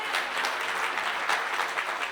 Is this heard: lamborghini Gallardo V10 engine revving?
no